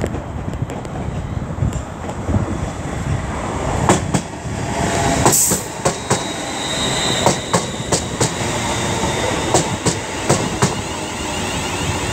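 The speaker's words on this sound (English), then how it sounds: "now approaching will be the uh, 1327 uh, West Midlands Railway service from Walsall to Wolverhampton" A West Midlands Railway service from Walsall to Wolverhampton passes at Aston, a steady rumbling roar with repeated clickety-clack wheel beats and sharp clunks over rail joints, loud and close throughout.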